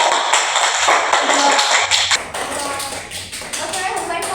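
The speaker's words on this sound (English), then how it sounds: "Give applause to Widya." Students in a classroom clap for a classmate in a brief burst of dense, close hand claps lasting about two seconds, then the sound thins into scattered taps and room noise.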